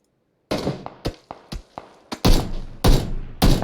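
Gunshots in a competitive online video game match, a series of separate sharp reports with decaying tails, irregularly spaced and growing heavier toward the end, loud and close, with no voices.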